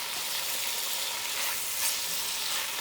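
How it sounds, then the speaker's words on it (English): Onion and tomato saute in hot oil with a steady, dense, even sizzle that holds at one level throughout, close and with no voices. "We're just gonna saute it a little, just let it coat in the oil"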